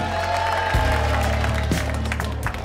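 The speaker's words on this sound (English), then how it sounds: "come on, a big round of applause for Mr. and Mrs. Horton." Wedding guests applaud the newly married couple, a dense steady patter of many hands clapping close by with some low hum beneath, continuing for a few seconds without a clear break.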